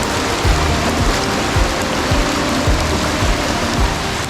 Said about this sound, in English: It's been raining just non-stop